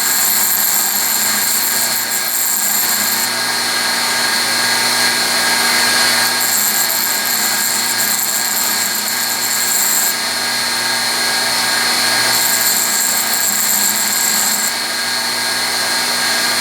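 A bench grinding wheel squares off a flat on the end of a lathe tool bit, a loud steady whirring drone with a high whine that fades in and out as the tool touches the wheel, no talking.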